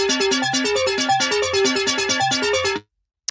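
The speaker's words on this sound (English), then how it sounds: "The first sound we have here is the ARP, which on its own sounds like this." A bright synth arpeggio plays rapid repeating notes in a steady rhythm, alone and fairly loud, then cuts off into silence.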